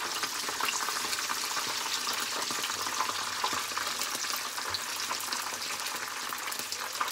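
Yuba-wrapped spring rolls fry in hot oil, giving a steady dense sizzle and crackle with scattered pops and no pause, close and even throughout. No one speaks.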